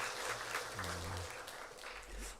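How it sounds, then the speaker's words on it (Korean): Soft, distant applause from a congregation thanking the choir in a university chapel service, steady and faint with a low murmur underneath. "은혜로운 찬양해 주신 우리 성가대원들에게 다시 한번 감사의 박수하겠습니다"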